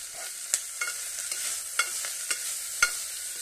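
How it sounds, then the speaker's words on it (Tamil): Coriander and mint leaves stirred into a frying pan of hot oil while cooking jackfruit seed biryani, with a steady sizzle broken by several sharp scraping clicks of the spoon, close and without talk. "இந்த கருகப்பில் இது கொத்தமல்லியும் புதினாவும் கொஞ்சம் போடுறோம்."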